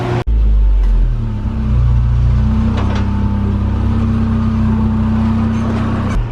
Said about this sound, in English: people just listening to cars driving by